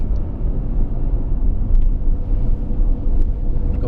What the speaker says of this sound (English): And up to second gear. And about this speed, maybe pop it up to third gear.